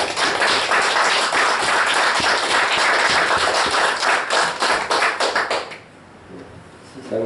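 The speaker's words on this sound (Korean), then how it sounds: "이 터질 것 같은 벅찬 기쁨을 주신 주님께 모두 감사의 박수로 영광을 돌립시다." Church congregation clapping in thanksgiving, loud and dense with quick overlapping hand claps for about six seconds, then breaking off into near quiet.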